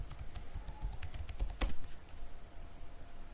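Keys clatter on a computer keyboard as a password is typed, a quick irregular run of soft close clicks with one sharper, louder keystroke partway through and no voices.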